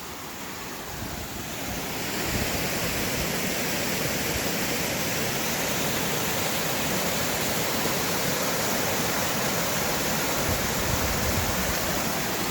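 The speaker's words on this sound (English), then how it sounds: "A lot of water flowing." Steady roar of a 40 ft waterfall and a creek rushing below it in Pittston, Pennsylvania, a dense continuous wash of water noise that swells in the first two seconds and then holds constant, with no talk.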